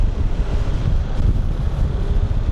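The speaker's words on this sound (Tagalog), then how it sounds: "Lakas ng hangin dito." Strong wind buffeting the microphone at a hilltop overlook in Boracay, a steady dense roar with gusty low rumble throughout and nothing else audible.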